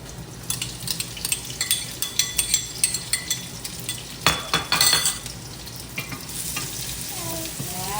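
Onion sautéing in an oiled pan with steady sizzling and a run of rhythmic stirring scrapes of the utensil, close and clear, easing into a softer hiss near the end.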